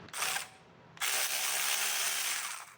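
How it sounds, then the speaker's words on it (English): Battery ratchet removing a nut on a 2004 Honda Accord during a wheel speed sensor and steering knuckle job, a short whirring burst followed by a longer steady buzzing run, close and alone. "So from there I can take it off the rest of the way with this battery ratchet."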